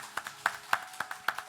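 A church congregation clapping in welcome and blessing, a handful of sparse, fairly faint claps scattered unevenly over a moment rather than full sustained applause.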